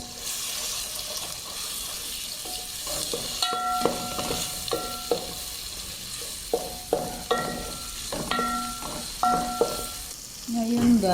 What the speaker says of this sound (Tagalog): Ngayon, magigisa na lang tayo. Pinapainit. Ilagay ko na yung sibuyas at saka bawang.